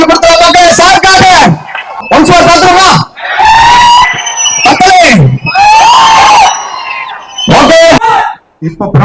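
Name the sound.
crowd applauding and cheering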